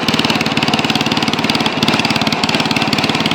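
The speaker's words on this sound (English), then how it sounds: "These are the theme tractors of 2022 at Denton Farm Park." Old tractor engine idling at the 2022 tractor show at Denton Farm Park, a loud, close, steady rapid chugging that runs evenly throughout with no voices.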